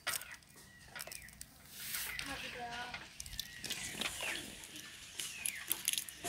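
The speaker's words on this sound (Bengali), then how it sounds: "এটা হচ্ছে মুরগির ঘর" Hens in a backyard chicken coop cluck in short irregular bursts close by, mixed with faint household background noise and some indistinct voices.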